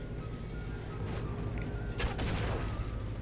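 A video game grenade launcher fires with dull booming shots and a sharp explosive burst about two-thirds through, set against constant game noise and rumble.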